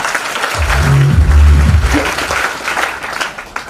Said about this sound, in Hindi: एक बार संदीप के लिए तालियां करना